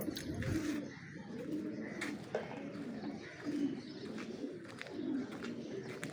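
Pigeons kept in a rooftop loft in Lahore coo in soft, repeated rolling bursts, several low calls spaced a second or so apart, close by over faint background noise.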